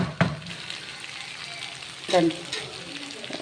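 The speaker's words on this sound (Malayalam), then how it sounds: "ഓക്കെ ഇതൊന്നും കൂടി ഫ്രൈ ആവട്ടെ" Chicken chukka frying in oil with masala, giving a steady close sizzle with occasional spatula clicks and scrapes, and a brief stirring burst midway.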